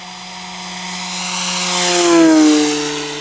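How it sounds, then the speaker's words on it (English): A Yak-11 radio-controlled plane screams by at full throttle with a smooth race-plane engine tone, rising in loudness and sliding down in pitch as it flies past close by, alone without voices. "It's got a true race plane sound to it."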